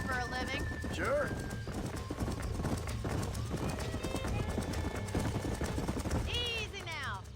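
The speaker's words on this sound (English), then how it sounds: "These are fine horses." Horses clip-clop steadily on the ground in Red Dead Redemption, and a loud neigh breaks out near the start and again near the end, all beneath ongoing talk.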